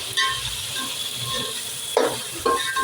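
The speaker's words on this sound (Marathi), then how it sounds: "कांदा पण छान फ्राय करून घ्यायचा आपल्याला जरा नरम पडू दे आपला कांदा" Onions for a vegetable biryani sizzle and fry in a pan, with a steady crackling hiss broken by a few louder stirring scrapes near the end.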